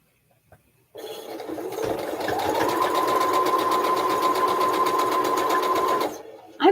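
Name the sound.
sewing machine stitching quilt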